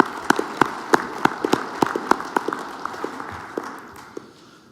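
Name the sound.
applause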